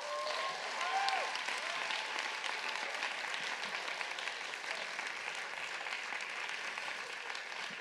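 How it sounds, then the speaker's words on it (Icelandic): Audience applause at a school singing contest, sustained dense clapping from a crowd that holds steady for the whole stretch, slightly distant in a hall. "Klappið fyrir því."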